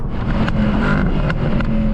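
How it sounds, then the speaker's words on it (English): A Mercedes-AMG SLS Black Series engine roars steadily with sharp crackling pops and bangs from the exhaust on overrun, several distinct bursts over the rumble. "Loving the pops and bangs on the overrun."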